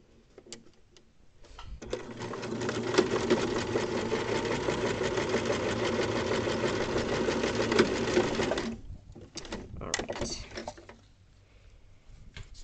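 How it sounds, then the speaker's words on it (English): A sewing machine back stitching a drawstring casing: a few short bursts, then a sustained rapid whirring run of about seven seconds, followed by brief stop-start stitches. "Back stitching at beginning and end."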